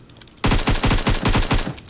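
A rapid burst of automatic gunfire from the shooter PUBG Mobile rattles out after a short quiet lead-in, roughly a dozen loud, evenly spaced cracks aimed at the player.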